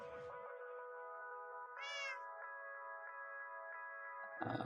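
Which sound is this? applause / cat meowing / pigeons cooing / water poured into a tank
cat meowing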